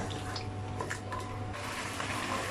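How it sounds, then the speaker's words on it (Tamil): Sauce for chilli parotta, thinned with water and salted, boils in a pan with a soft, continuous bubbling hiss. It is quiet and close, with no voices. "இப்போ நல்லா கொதிக்குது."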